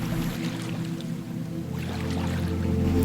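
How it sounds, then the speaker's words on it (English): Steady, gentle rippling of river water with soft lapping and dripping textures under a low continuous rumble, close and unbroken for a few seconds. "The ripples of the water."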